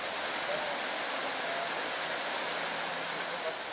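A river waterfall rushes in a steady, dense wash of white noise, close and constant without a break, where a Jeep is about to attempt a crossing.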